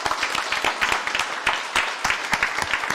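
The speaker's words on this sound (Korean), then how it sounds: "우리 축하의 박수 오늘 보내겠습니다." A church congregation claps in celebration, a moderately loud patter of individual hand claps with a loose, uneven rhythm filling the room.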